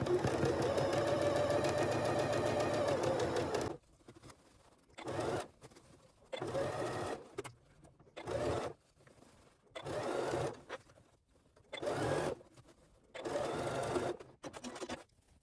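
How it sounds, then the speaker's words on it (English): A sewing machine stitches fabric alongside fusible foam for a padded DSLR camera lens case: one long continuous run of steady stitching, then a string of short stop-start bursts separated by quiet pauses. "There's our first line stitched around our foam."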